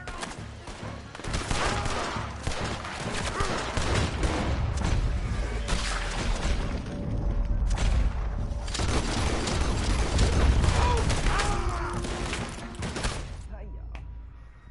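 Rapid, sustained gunfire crackles through a Western-style video game shootout, dense bursts layered with game sounds and booms, continuing loudly over almost the whole stretch with game characters' voices mixed in.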